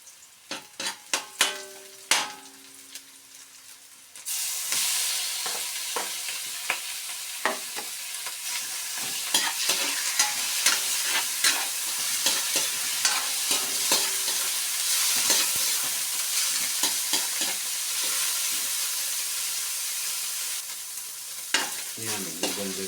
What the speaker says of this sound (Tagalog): Pwede na natin igisa ang ating karne.